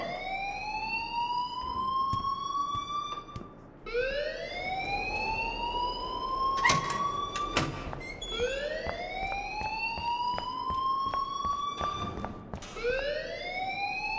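Alarm ringing in the video game Life Is Strange, a loud rising siren wail repeating in steady sweeps every few seconds, with brief clatters in between.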